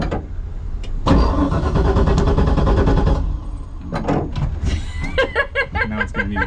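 LS-swapped Toyota 86 turning over and firing up inside the car, a loud broadband engine roar building and holding for a couple of seconds, then dropping to a rough idle with scattered knocks and a voice briefly over it.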